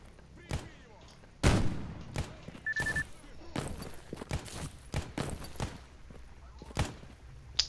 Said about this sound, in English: it seems like they're shooting at me